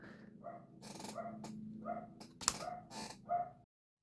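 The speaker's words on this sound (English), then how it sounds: "My dog was freaking out, so I had to go and see what was going on. He was just barking at the lawnmowers" Dog barking at lawnmowers, a quick series of sharp barks and yips spaced irregularly over a few seconds, with a faint low engine hum underneath and no talking.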